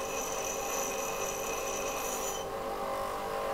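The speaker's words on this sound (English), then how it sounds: "use the whole surface of the stone so I don't wear whole like groove in it" Metal drill bit being sharpened by hand on a stone, a faint steady rasping scrape that runs without pause, quiet and close with no talk.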